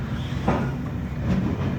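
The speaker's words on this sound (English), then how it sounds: "Listen to the sounds this train makes." A 55-year-old passenger train running along the line, with a steady low rumble of wheels and carriage noise throughout and a few faint rhythmic clacks, heard from on board at moderate loudness with no talking.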